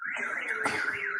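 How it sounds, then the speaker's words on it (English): A car alarm wails in a rising and falling siren, loud and near, with a brief thud or bump partway through. "They hit so hard that they set off a car alarm."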